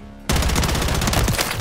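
Gunfire in Call of Duty: a loud, close burst of rapid automatic fire starts abruptly and rattles on continuously for over a second.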